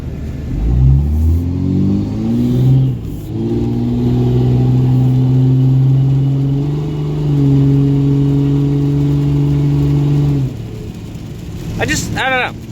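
A 2G Cummins truck engine, previously neglected, revs up from idle into a loud, rumbling sustained run, holds its note for several seconds, then drops off, followed by a brief high whining chirp at the end.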